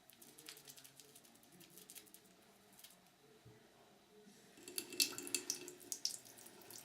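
A makeup brush is rinsed under lukewarm running tap water, a faint, soft trickle that turns into brief patter and splashing toward the end.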